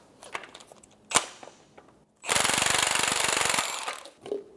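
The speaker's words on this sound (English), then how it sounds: "Using a 17mm socket, I'm going to remove the nut." A 17mm socket on an impact tool spins off the strut nut of a 2012-2016 Subaru Impreza in one loud, rapid rattling burst of about a second and a half, preceded by a few faint metallic clicks and knocks.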